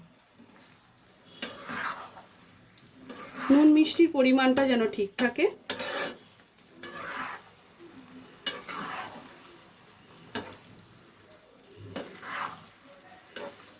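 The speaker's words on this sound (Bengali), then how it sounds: "খুব হালকা হাতে নাড়তে হবে, পনিরটা যেন ভেঙে না যায়।" Paneer curry stirred gently in a pan, irregular scraping strokes of a spoon against the metal over a soft sizzle, with someone speaking briefly in the middle.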